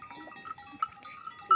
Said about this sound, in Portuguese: Ó, a cabra.